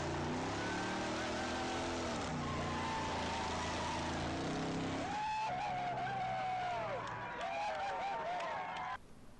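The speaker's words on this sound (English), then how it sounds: "suppose you want to peel out at an intersection or lay some rubber down." A car peels out with its tires squealing, an engine revving low before sharp wavering screeches rise and bend, loud and close, then cut off abruptly.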